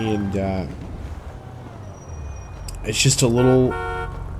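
In Grand Theft Auto V, a car horn gives two short honks separated by a pause, mixed with a voice speaking.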